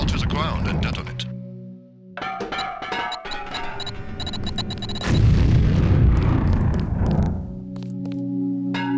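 A lamp-based explosive detonates during demolitions training in the PS2 game Deus Ex: The Conspiracy, a loud broadband blast swelling midway and trailing off, set among steady in-game tones and electronic effects.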